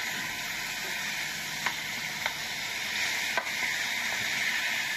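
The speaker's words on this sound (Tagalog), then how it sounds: "Dali naman po mag-brown yung ating sibuyas." Onions brown in a hot pan for mechado with a continuous bright sizzle. A few faint clicks of stirring or utensil taps sit on top of the sizzle, and there is no speech.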